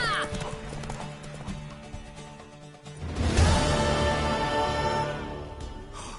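Galloping hoofbeats pound along with a horse's whinny in a video game, backed by swelling music that builds partway through.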